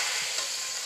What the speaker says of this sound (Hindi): ये सारा तड़का मैंने इसके अंदर डाल दिया है